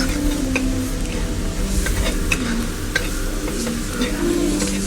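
Thai curry paste stir-fried in a pan with finely sliced kaffir lime leaves and drying as it cooks, giving a loud continuous sizzle with repeated spatula scrapes and clacks against the pan.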